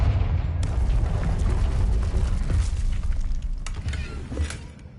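A Confringo blasting spell explodes in Hogwarts Legacy, a loud sustained rumbling boom with crackling debris and breaking sounds that slowly fade.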